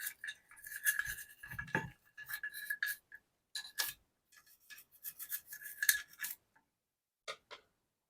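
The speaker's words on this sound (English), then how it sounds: "Start cleaning on the inside here. All right. Brush down, loosen things up." A brush scrubbing inside a Mossberg 500 shotgun, with close, faint, irregular scratchy strokes and short pauses between them.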